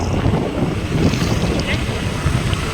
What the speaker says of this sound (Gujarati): આ ઠંડો પવન તો જો આવે